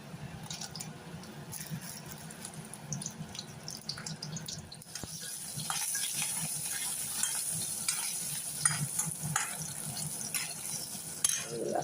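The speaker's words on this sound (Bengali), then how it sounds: "সবজিগুলো একটু ভেজে দিই" Vegetables, including cauliflower, fry in a pan with a steady sizzle that grows louder partway through, joined by scraping stirs and small splashy, dripping sounds, all close by in a home kitchen.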